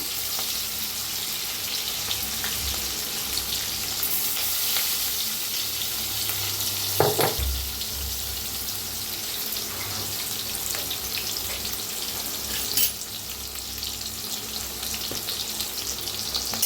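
Onion and green chili paste frying in a pan, an even crackling sizzle running throughout with a few scraping stirs and small clanks, moderately loud, no one speaking.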